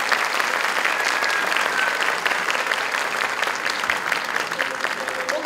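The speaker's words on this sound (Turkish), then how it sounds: "Takdiri hak eden alkışlarınızla okul birincimiz Elif Tuğçe Nacar." Sustained applause from a crowd at a dental faculty graduation ceremony, dense and even, continuing steadily throughout.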